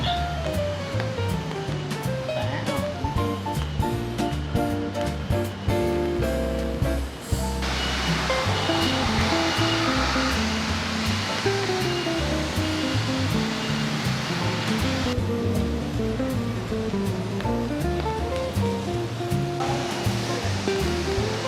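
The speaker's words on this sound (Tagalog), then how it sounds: "ang lakas ng ulan" Heavy rain near Wulai, outside Taipei, pours down in a loud, steady hiss, growing stronger partway through, with tonal music-like sounds running underneath.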